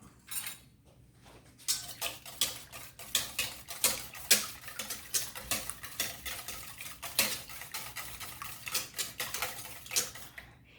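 A utensil stirs an egg into buttermilk in a bowl, clinking and scraping in a quick, uneven rhythm for about ten seconds. The sound is close and crisp, and nobody talks.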